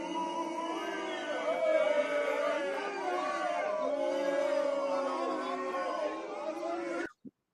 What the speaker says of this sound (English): the crowd welcomes him